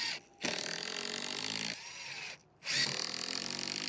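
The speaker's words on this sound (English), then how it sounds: "So now we'll put the rest of our screws in." Power drill driving screws into the boards of a homemade floating fishing dock, two sustained whirring bursts separated by short pauses, close and steady.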